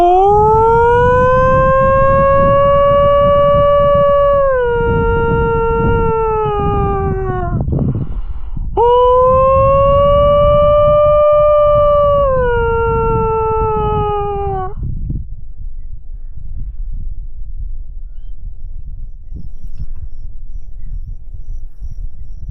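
A man gives two long, wavering howls outdoors in the bush to lure dingoes, a human voice imitating the wild dog's call; each rises and slowly falls for several seconds, then wind noise carries on alone.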